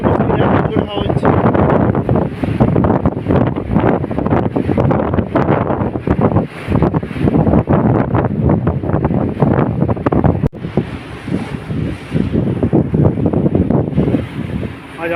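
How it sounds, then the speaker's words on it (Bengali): Strong storm wind buffeting the microphone on a tanker ship at sea, a loud continuous roar and gusting throughout, with someone talking over it. "খুব জোরে হাওয়া হচ্ছে এখানে"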